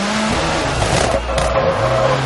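Rally car in the WRC4 game swinging through a handbrake turn, a loud sustained engine drone with a skidding, gravelly slide and the revs rising again at the end.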